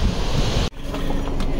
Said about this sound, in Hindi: साथ में नदी बह रही है